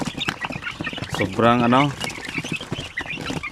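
Basilan native chickens about a month old give a short burst of clucking in the middle, surrounded by close talking.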